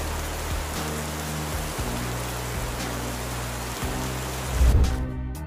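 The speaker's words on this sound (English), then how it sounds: "Kind woman is solving the problem of blocked drains in the rain." Steady rain pours down on a street during a downpour, a dense even hiss with a low rumble and a brief louder splash or thump near the end.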